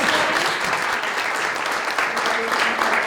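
Lunch-event audience applauding Megan Parisi after her story, a sustained crowd clapping wash with murmured voices and some talk mixed underneath.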